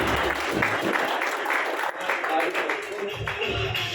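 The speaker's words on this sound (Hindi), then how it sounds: "तालियां तगड़ी होनी चाहिए" An audience at a roof inauguration ceremony applauds a guest being called to the stage: dense, continuous clapping fills the space while someone speaks over it.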